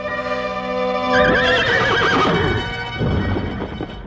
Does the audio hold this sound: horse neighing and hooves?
yes